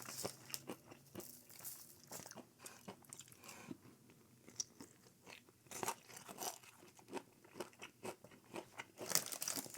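Close, quiet crunching and chewing, with repeated crisp bites and crackles in an irregular rhythm as someone eats Popeyes fried chicken drumsticks.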